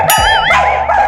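A voice imitates a dog barking, giving a quick yelping bark followed by a wavering, whiny howl, loud and close.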